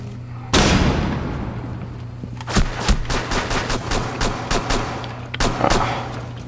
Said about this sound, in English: Oh, we getting shot.